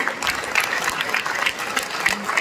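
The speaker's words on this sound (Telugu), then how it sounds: "కొత్త వాళ్ళు ఒకసారి గట్టిగా క్లాప్స్, చేతులు పైకెత్తి." Seminar audience in Bhuvanagiri clapping hands raised overhead, a steady dense patter of many hands at moderate distance with no talk.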